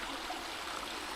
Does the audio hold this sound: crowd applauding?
no